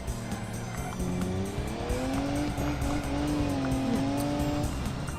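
A Lexus LFA engine in the BeamNG driving game wails at high revs and shifts pitch up and down, with harmonic tones sweeping steadily, continuous and fairly loud.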